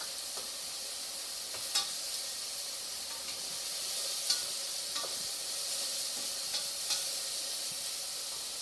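Onions and garlic soften in a hot pan with a steady, bright sizzle and hiss, broken by occasional soft scrapes and clicks of stirring.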